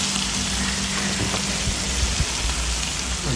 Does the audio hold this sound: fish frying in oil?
yes